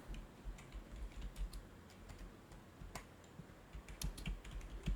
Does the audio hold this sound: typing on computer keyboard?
yes